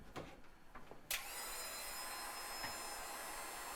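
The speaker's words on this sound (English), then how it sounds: "We're going to use the heat gun for this." A heat gun blows steady hot air to soften a Kydex holster, a constant broadband whoosh that switches on abruptly after some quiet handling noises and runs unbroken at an even level.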